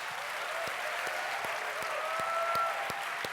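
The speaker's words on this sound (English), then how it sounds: "give a round of applause to all the chefs and cooks that have been feeding us" An audience applauds chefs and cooks at a talk on molecular gastronomy, giving a steady, dense wash of clapping across the whole span, with faint tones underneath.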